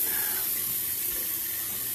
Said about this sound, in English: what I've done before is continue to fill it with hot water